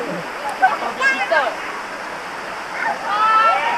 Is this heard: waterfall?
yes